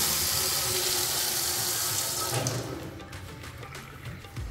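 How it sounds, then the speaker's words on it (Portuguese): A newly installed faucet in a rental house under renovation runs steadily, a broad hiss of flowing water that eases and thins partway through before settling into a softer trickle. "É a torneira funcionando bonitinho já."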